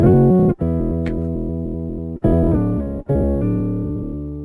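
A guitar with an octave effect rings out in a few strummed chords, each decaying slowly, with a deep doubled low tone beneath.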